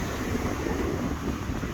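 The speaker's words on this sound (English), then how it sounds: "And I've just hit a windy part right now." Wind buffets the microphone on a viaduct in a constant low roar, rumbling and blustery for the whole stretch with no voices.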